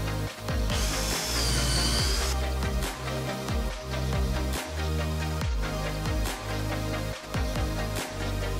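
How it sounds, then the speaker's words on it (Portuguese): A power drill bores four holes in a wooden frame for a light box, with a loud continuous motor whir broken by short pauses and repeated bursts as each hole is cut. "neste caso estou a fazer 4 furos nesta estrutura para depois fixarmos à parede"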